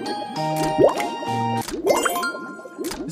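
Bubble Pop slot game effects: bright ringing chimes, plops and rising popping tones in quick bursts, with sustained synth notes between them and no talk.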